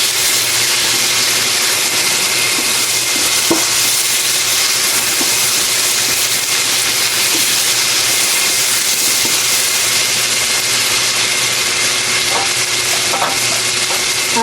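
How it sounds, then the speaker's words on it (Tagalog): Pork fat sizzles and fries steadily in a pan for ampalaya con carne, a dense continuous hiss with occasional light clicks of stirring, close and alone. "luto lang po natin ng konti yung taba-taba"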